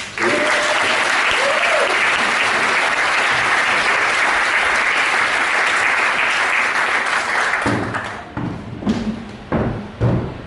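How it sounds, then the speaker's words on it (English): A comedy show audience gives loud, sustained applause that fills the room for several seconds before thinning out into a few scattered claps and thumps. "a big round of applause for Holly Mumford and Lisa Marble."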